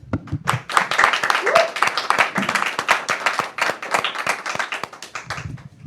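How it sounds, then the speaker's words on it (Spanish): Applause from a church audience, with individual hand claps clearly picked out in an uneven rhythm while voices speak over them for most of the stretch. "Despedimos a Giovanni con un fuerte aplauso."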